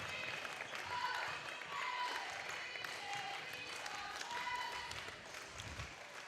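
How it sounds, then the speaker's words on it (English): A crowd cheers and applauds at the end of a varsity boys basketball game as the Cougars clinch the Ozark 7 conference title. The noise is faint, distant and sustained, with voices mixed in. "Hear the roar of the crowd over that."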